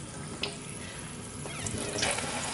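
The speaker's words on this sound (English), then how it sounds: "you can kind of trap some water in it and then swish it around." Water swishes and sloshes inside a hollow blown eggshell, a soft, wet rattling with a few brighter splashes, close and fairly quiet with no talking.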